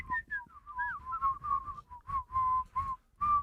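A man whistles a bright, wavering melody in a series of short phrases and sustained notes, fairly close and clear, with no talking over it.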